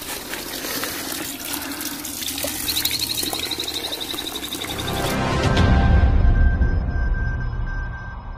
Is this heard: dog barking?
no